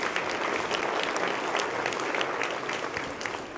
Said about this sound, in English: Alina, yes, round of applause.